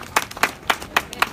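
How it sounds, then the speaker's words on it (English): Applause from the crowd at a property auction in Scoresby, Melbourne, honouring the highest bidder: a short burst of several sharp claps at an uneven rhythm, fairly close, with no talk. "I would like a round of applause for the highest bidder here today."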